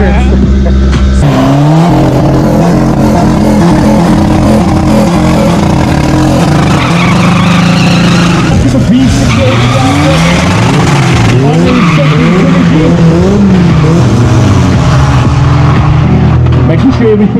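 A diesel Polo making a drag strip run produces a loud, sustained engine roar with rising and falling revs and tire noise, heard up close, with a voice talking over it.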